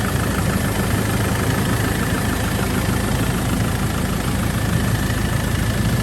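A Land Rover Defender 90 TDCi diesel idles with an insulating blanket over the engine, a steady, close, rumbling drone with constant low vibration and no talking.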